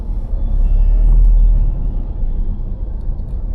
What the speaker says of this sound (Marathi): थोडीफार ट्रॅफिक झाली आहे.